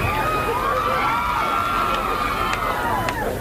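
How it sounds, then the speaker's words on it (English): Crowd at a televised dunk tank event cheering and shouting continuously, a dense, loud roar of many voices with excited whoops. "Listen to the excitement of that crowd."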